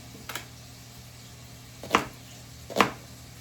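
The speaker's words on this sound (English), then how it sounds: "I'm just cutting thin strips" A kitchen knife slices an onion into thin strips on a cutting board, making three separate crisp chops spaced about a second apart, close and clear against a quiet room.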